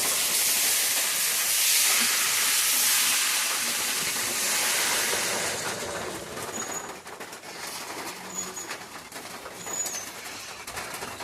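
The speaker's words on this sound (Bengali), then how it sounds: "এই যে মাছ কষানো হয়ে গেছে, এখন ঝোল দেবো।" Water poured into a pan of sautéed kuche fish curry sets off a loud, broad steaming sizzle that holds strong for several seconds, then settles into a softer, crackling simmer with a few faint clinks; no one speaks.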